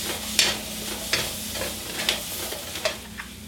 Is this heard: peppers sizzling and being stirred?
yes